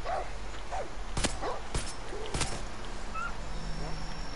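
A dog in the video game Far Cry 6 barks several sharp times, loud and close, over a steady game background with faint whines and yips in between.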